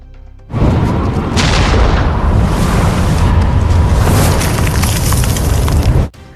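A powerful explosive blast erupts and rolls on as a sustained roaring rumble for several seconds, loud and close, before cutting off abruptly.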